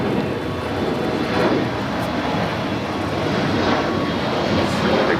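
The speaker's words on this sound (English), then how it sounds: "Cathay Pacific 777-300ER in the updated livery. Who knew? Now rolling down taxiway Bravo" A Cathay Pacific Boeing 777-300ER airliner taxis at LAX, its engines giving a steady, loud, broad roar that holds evenly throughout.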